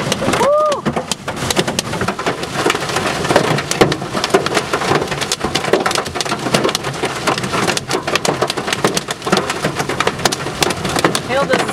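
Hail and rain pound down hard during a microburst storm in Norman, Oklahoma, a loud, dense clatter of countless close impacts with gusty wind and brief voices underneath.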